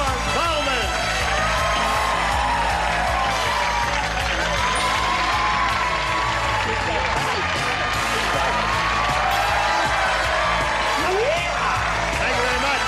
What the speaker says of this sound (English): Ladies and gentlemen, this is clapping.